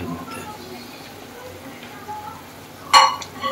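Leftover fish-frying oil is added to a mustard-poppy pomfret curry in a pan, giving a low, steady sizzle with a sharp clink of utensil against pan near the end, while a person talks.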